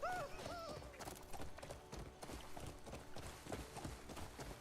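Horse hooves clip-clopping at a run in a racing video game, a steady galloping patter under game music and chatter, with voices talking over it.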